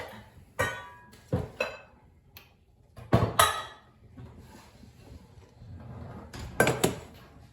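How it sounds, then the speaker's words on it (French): Metal pots and pans clatter and clank as a large saucepan is pulled out of a cupboard, several sharp knocks and scrapes spaced irregularly, close by. "Je vais attraper une grosse casserole."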